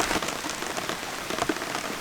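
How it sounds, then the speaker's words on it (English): Rain falls steadily on a homestead, a dense close patter of drops hitting surfaces with no voices over it. "It's raining."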